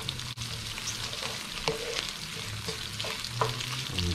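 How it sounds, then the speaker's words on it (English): Onions and garlic soften in oil over lowered heat for a Sri Lankan mango curry, giving a constant bright sizzle with a few spatula scrapes and taps as they are stirred. "you just want to soften those onions and continue flavouring that oil up a bit"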